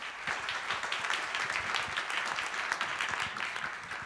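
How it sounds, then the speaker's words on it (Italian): A seated audience at an Italian research and innovation event claps steadily, a loud, even wash of many hands with individual claps standing out, holding at a constant level throughout without voices. "un applauso ancora a Massimo."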